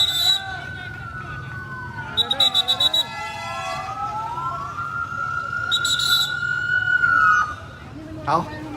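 A fire truck siren at a club fire in Vientiane wails, rising and falling in long sweeps, with short bursts of a rapid electronic yelp and a voice speaking briefly underneath.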